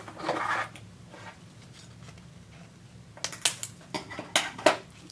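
Wire cutters snip off the spare wire from a hair bow: a rustle of handling up front, then a run of small sharp metallic clicks and snips close by.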